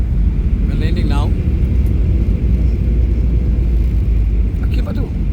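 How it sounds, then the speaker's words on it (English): A passenger airplane lands, filling the cabin with a loud, steady low roar and rumble throughout, with a brief rising whine and faint voices under the noise. "We're landing now."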